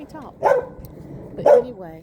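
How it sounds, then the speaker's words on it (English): A dog barks twice near the mic, single sharp yaps about a second apart, heard outdoors while a person talks over them. "he likes to do all that barking and what have you"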